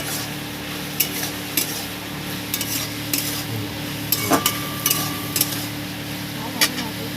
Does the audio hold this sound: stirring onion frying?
yes